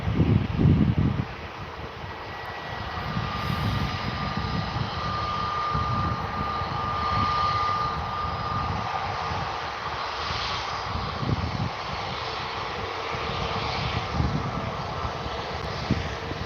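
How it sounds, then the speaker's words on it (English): An Airbus A320neo airliner sits ready to depart at Manchester Airport, its engines a steady, distant roar heard over wind noise, with no talk. "Got the A320neo about to depart."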